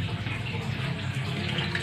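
Tap water pours steadily into a container, a continuous close splashing gush with no pauses.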